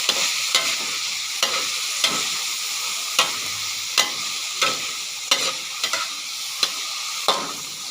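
Broccoli stir-fry sizzles steadily in a pan while a utensil scrapes and taps the pan at a regular pace, about every half second or so, close and without voices.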